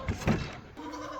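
A goat on a homestead gives a couple of short, nasal bleats close by, the second louder, followed by a softer, drawn-out cry.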